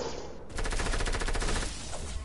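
A fast burst of automatic gunfire in a squad match in a shooter game, loud and close, with a steady rattling rhythm that cuts off after about a second.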